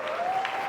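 A church congregation claps together in a brief, steady burst of applause, moderately loud and even throughout.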